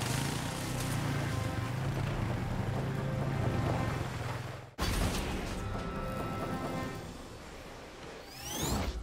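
Argo eight-wheel amphibious ATV driving into the surf, its engine droning steadily beneath the rush and crash of breaking waves and wind, loud and close throughout.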